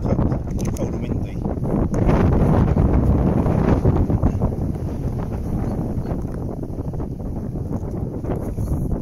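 Cold wind blows across an apiary being readied for winter, battering the microphone with a loud, continuous low roar and gusty rumble.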